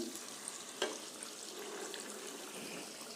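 Hilsa fish pieces frying in hot oil and being turned over, a steady soft sizzle with a single sharp clink of the utensil near the start, close and fairly quiet.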